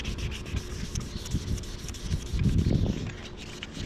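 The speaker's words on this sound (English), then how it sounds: "But I'm still sanding up here because you don't want to start flaking on it." Steady abrasive rubbing of sandpaper on plastic car trim, a continuous scratchy back-and-forth that swells louder near the end, close by with no talking.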